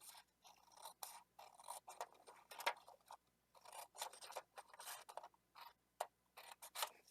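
Scissors cutting through paper or card in a series of close, crisp snips and slicing rasps, with short pauses between bursts of cutting.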